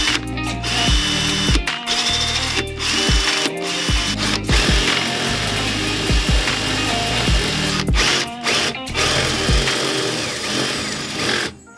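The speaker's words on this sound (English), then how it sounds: "This is the hole we have so far with just a drill bit." Power drill boring a hole in a carbon fiber trunk for a Subaru BRZ or Scion FR-S, loud and close, running in repeated short bursts with brief pauses between them.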